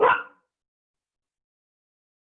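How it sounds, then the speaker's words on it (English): A dog gives a single short bark at the very start, fairly loud and close, followed by silence. "I apologize for my barking dog."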